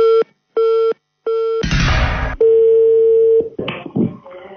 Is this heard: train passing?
no